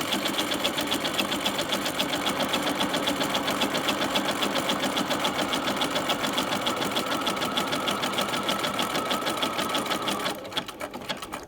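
A sewing machine stitches a dense satin stitch through sheer fabric using an open toe embroidery foot, running steady and fast with an even mechanical whir that stops near the end.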